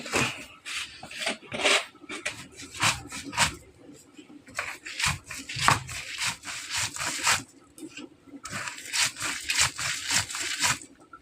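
Ol leaves and shrimp are ground into a paste with a little sugar and salt, producing repeated rhythmic rubbing and scraping strokes, close and moderately loud, with brief pauses between bursts.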